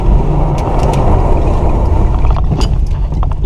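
A Camaro drifts on a potholed street, its engine and tyres a loud, steady roar with rushing wind noise heard from inside the car throughout.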